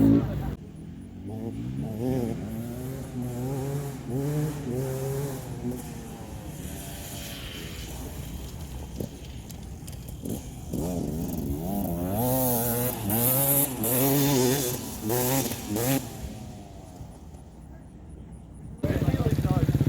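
A Beta 300 two-stroke dirt bike ridden off-road, its engine buzzing and rising in pitch through repeated revs, with wind noise and a brief quieter stretch, heard close from the rider's position.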